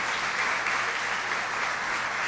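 A church congregation applauds together, a steady, moderately distant roar of many hands clapping at constant level, with no talking over it.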